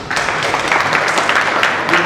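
A crowd at a Buddhist association training session in Kanpur claps in a steady, dense wash of applause that holds fairly loud and even for about two seconds.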